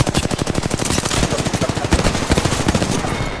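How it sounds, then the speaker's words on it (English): Automatic weapon fire from an Apex Legends match: rapid, evenly spaced shots in long continuous bursts, loud and close throughout, with no talking. "I'm taking shots."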